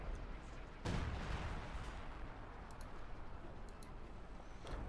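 Company of Heroes 2 artillery bombardment: a muffled low boom hits, then a rumbling roll of distant shelling under faint ticking, all quiet and far off.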